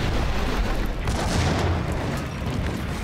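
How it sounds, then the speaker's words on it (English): A grenade goes off in the Max Payne video game, a loud, dense boom that rolls on through the clip, with several rumbling blasts and debris noise stacked close together. "Surely I'm not meant to solve this with a grenade."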